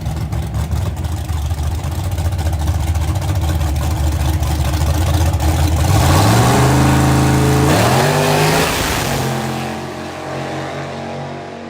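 A 1300HP turbo Ford Mustang street car drones at a loud idle, then revs hard with rising and falling sweeps before settling back, close and dominant.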